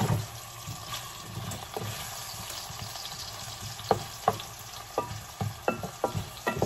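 Potatoes stirred and fried in an ordinary pan that isn't non-stick, a steady sizzle with scraping stir strokes that grow sharper and more frequent toward the end, close up.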